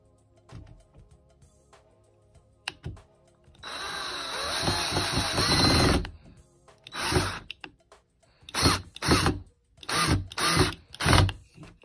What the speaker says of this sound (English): So we're going to now go in and drill.